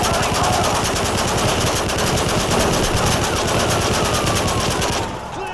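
Sustained automatic gunfire from Call of Duty: Modern Warfare 3, with loud, rapid bursts running almost continuously before easing off at the end.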